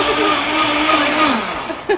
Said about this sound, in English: the Vitamix, the longer you leave it on, the warmer it's going to get because it spins so fast